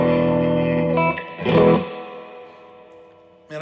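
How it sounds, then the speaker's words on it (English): Electric guitar through a drive pedal into a Fender amp's spring reverb: a gritty sustained chord, then a sharp crunchy strum that decays into a long reverb tail, ending with a fresh pick attack. "When you got the drive, you're getting this."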